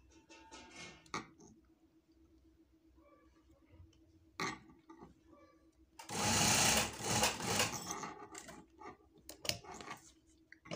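Sewing machine stitching a shirt at home, a dense whirring burst of a few seconds standing out loudly between quieter stretches of faint handling noise and short bursts.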